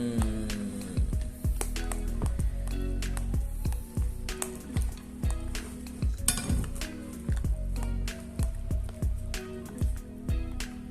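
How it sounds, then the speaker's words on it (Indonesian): Cilok dough of wheat flour, tapioca flour and tofu is stirred in a bowl. A utensil clinks and taps against the bowl again and again in an uneven rhythm, over a soft, squishy churning underneath. "Kita aduk lagi sampai rata. Aduk, putar sampai tercampur rata dalam adonan."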